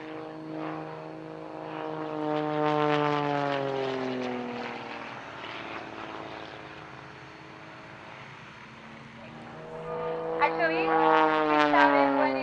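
Extra 330 SC aerobatic propeller plane performing at an air show, its engine droning and sweeping up and down in pitch as it passes, with a loud rising roar near the end.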